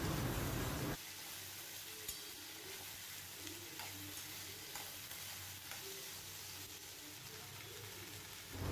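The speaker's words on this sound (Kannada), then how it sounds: "ಐದು ನಿಮಿಷ ಇದನ್ನು ಸ್ವಲ್ಪ ಎಣ್ಣೆಯಲ್ಲಿ ಫ್ರೈ ಮಾಡಿಕೊಳ್ಬೇಕು." Hyacinth beans (avarekai) frying in oil in a pan make a continuous soft sizzle with occasional stirring taps, after a brief louder burst at the very start.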